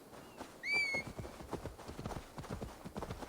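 Horse hooves clip-clopping in a steady, quickening rhythm as the mount approaches in Assassin's Creed Valhalla, with a short whinny near the start, all fairly quiet.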